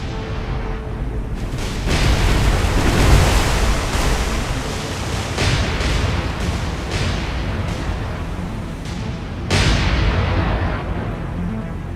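Naval gunfire in War on the Sea during a night battle off Guadalcanal, with heavy artillery booms rolling over a continuous roar of sea and wind, loud and sustained throughout.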